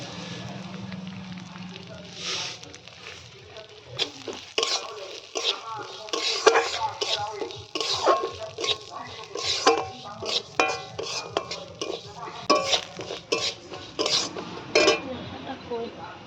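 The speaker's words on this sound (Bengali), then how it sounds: "ডালগুলো ভাজা হয়ে গিয়েছে" Dal lentils frying in white oil in a pan, stirred with a utensil: repeated scraping clinks and clatters against the pan over a soft continuous sizzle, close and fairly steady throughout.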